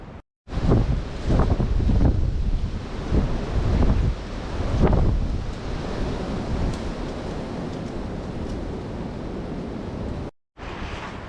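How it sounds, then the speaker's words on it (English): Strong wind roars and buffets against the microphone at a winter campsite, a loud continuous rush with gusty surges and no voices over it. "This wind is going to make this a fight."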